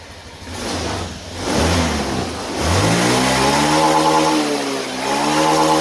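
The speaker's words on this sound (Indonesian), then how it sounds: "teman-teman lakukan gas sampai pol ya teman-teman, 1 atau sampai 2 kali itu sudah cukup." A Honda Beat injection scooter engine is revved hard to full throttle twice, each rev climbing loudly to a high whine and then settling, heard close and alone.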